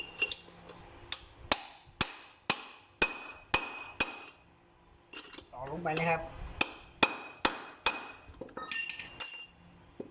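A bearing is hammered into the front wheel hub of a Kubota L34 tractor, ringing metallic strikes in a steady series of evenly spaced blows, with a short pause midway where someone speaks briefly.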